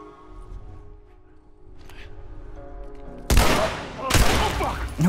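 A firefight in The Last of Us: after a quiet stretch of low ambience, two loud bursts of gunfire erupt close by, with a sharp crack near the end.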